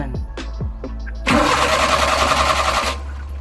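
Suzuki F6A engine in a Multicab being cranked but not starting: a few short starter whirs, then a sustained cranking rattle lasting about a second and a half before cutting off, close and loud.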